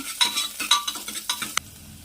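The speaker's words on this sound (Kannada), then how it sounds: "ಸ್ವಲ್ಪ ಈರುಳ್ಳಿ ಸೇರಿಸ್ಕೊಳ್ತಿದ್ದೀನಿ ಸ್ನೇಹಿತರೆ ಈರುಳ್ಳಿನ ಸ್ವಲ್ಪ ಫ್ರೈ ಮಾಡ್ಕೊಳ್ಳೋಣ" Onions and curry leaves frying in oil in a pan, a close sizzle broken by several sharp stirring scrapes and clinks of a spoon at an uneven rhythm, no voices.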